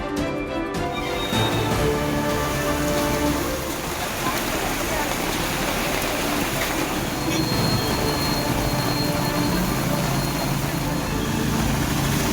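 Heavy rain pours down in Tiruchendur, Thoothukudi district, a dense, steady roar that is loud and continuous throughout, with no pauses.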